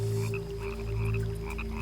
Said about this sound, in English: The Australian rocket frog has the greatest jump of all.